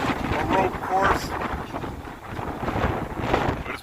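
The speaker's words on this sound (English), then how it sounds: "Windy as hell, as you can tell." Strong wind buffeting the open deck of the Carnival Celebration cruise ship at sea, a loud, gusting roar over the microphone throughout, with people talking through it.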